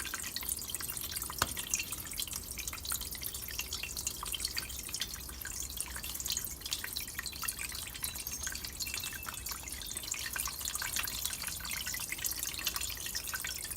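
Used oil drains from the crankcase of a small go-kart engine in a steady, even trickle with faint splashy drips. The sound runs continuously for the whole stretch, with no voices.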